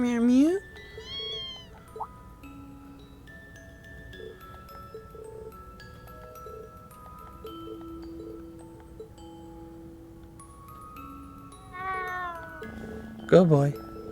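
A kitten meowing in the video game Trails of Cold Steel, with rising, wavering mewls at the start and again near the end. A quiet background music bed runs between the cries.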